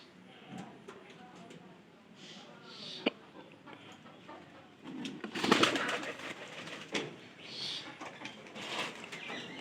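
Pigeons coo softly and intermittently at moderate distance in a loft, with scattered rustles and a louder burst of flapping or movement midway, while someone talks over them.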